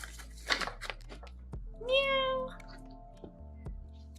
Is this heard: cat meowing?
yes